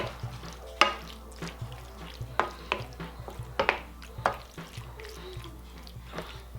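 Sloppy joe meat sauce simmers in a pan, giving steady soft bubbling and sizzle with scattered sharper pops and stirring clicks, close and fairly quiet, with no talking.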